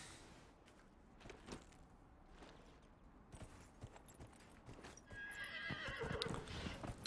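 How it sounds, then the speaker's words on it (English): A horse whinnies and its hooves clip-clop in Dragon Age: Inquisition, with scattered game effects behind it and the neigh and hoofbeats growing busier and louder near the end. "Horsey."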